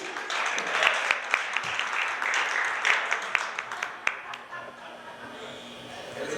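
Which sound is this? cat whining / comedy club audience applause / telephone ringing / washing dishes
comedy club audience applause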